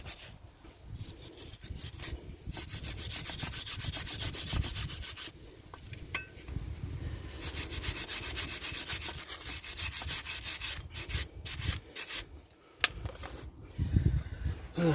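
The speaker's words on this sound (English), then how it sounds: "Wire brush it and anything don't come off, give it a good scrape." Wire brush scrubbing and scraping on a Rover 75 brake caliper, cleaning the pad seats: steady, close abrasive rubbing strokes with brief pauses, no talk.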